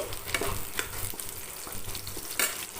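Onions or aromatics sautéing in a pan for a chicken chilli gravy, sizzling steadily with several sharp scraping stir strokes of a spoon against the pan, fairly faint and with no talk.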